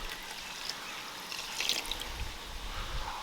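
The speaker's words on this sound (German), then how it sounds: "dann gießen wir das restliche Wasser hinein" Lukewarm water poured into a yeast dough mixture for flatbread, a soft trickling and splashing that swells briefly midway, quiet and close with no talk.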